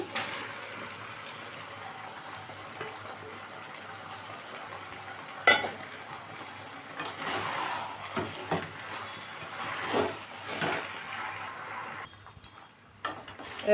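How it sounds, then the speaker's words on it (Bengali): Pasta with chicken being stirred in a pan with a splash of water, a quiet, steady bubbling with scraping and clinks of a spoon against the pan and one sharp knock partway through. "দু তিন মিনিট নেড়ে ছেড়ে নেব"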